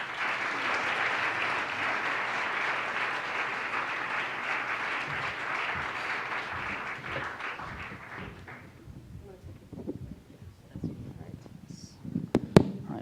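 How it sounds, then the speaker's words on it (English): Audience at a panel event applauds its guests with a sustained, full round of clapping that thins out after about eight seconds, followed by scattered claps and people beginning to talk. "Please, a warm round of applause for all three of our guests."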